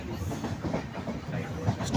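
A Duronto Express running on rails gives a close rumble with rhythmic clickety-clack from the wheels, steady and moderately loud over two seconds.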